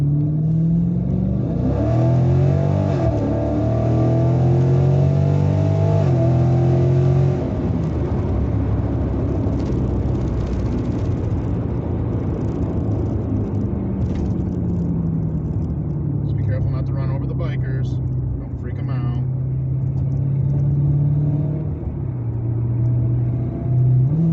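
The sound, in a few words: muscle car accelerating on a straightaway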